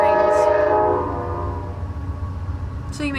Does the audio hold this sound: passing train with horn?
yes